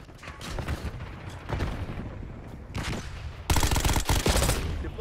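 Rapid bursts of Saug submachine gun fire in Call of Duty Black Ops 6, several short clattering volleys spaced apart, ending in a louder sustained burst close by.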